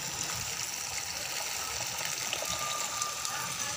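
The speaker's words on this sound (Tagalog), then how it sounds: "Ngayon, lagyan natin ng mainit ng tubig." Hot water streams into a pan in a home kitchen while pechay with sardines is being cooked, a soft steady splashing gush that is faint and continuous with no talking.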